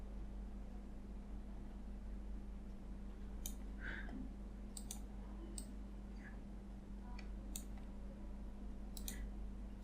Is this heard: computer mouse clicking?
yes